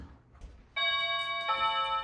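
A doorbell rings during a dog training session at home, with two clear electronic chime tones in quick succession that ring out loudly and sustain close by, following a brief quiet start.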